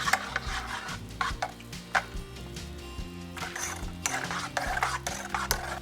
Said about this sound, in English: Then I'm going to whisk it for about 30 seconds to bring it to like a pudding-like consistency.